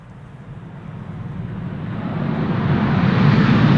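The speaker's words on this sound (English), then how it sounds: "Reversers being applied there." A 737-800 airliner landing at Amsterdam Schiphol with thrust reversers applied, a broad engine roar swelling steadily louder over a few seconds, moderately distant with no talk.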